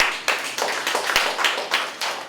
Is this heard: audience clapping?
yes